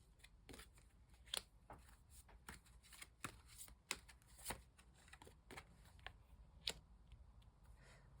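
Tarot cards shuffled softly by hand up close, a steady series of light papery snaps and flicks at irregular intervals, quiet and with no speech over them.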